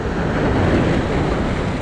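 Surf rushes and roars continuously nearby, with wind buffeting the microphone.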